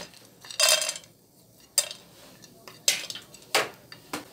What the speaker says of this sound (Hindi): अब इसी फ्राई पैन के अंदर हम मूंगफली और पिस्ता को